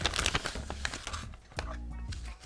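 Plastic bags crinkle and rustle as chrome and clear glass parts from a Johan model car kit of a Belvedere are bagged, with close, busy crackling throughout and faint talk mixed in.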